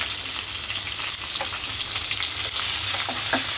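Loud, crackling sizzle of a fish head frying in a pan, with scattered pops and spatters and a few light clinks, no voices.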